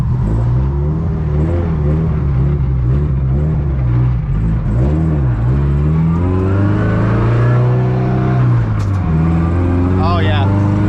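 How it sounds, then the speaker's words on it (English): An FRS sports car engine with its check engine light on, dropping into limp mode, refusing to settle at idle: a loud, close exhaust note whose pitch surges and sags unevenly throughout, with rough revving. "Oh yeah, see, it's not wanting to idle here."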